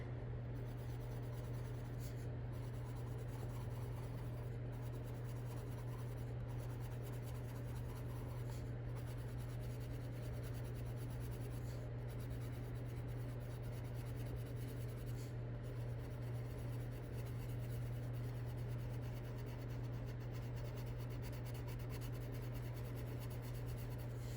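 Steady, soft scratching of a colored pencil across paper, with faint rhythmic strokes over a constant low electrical hum.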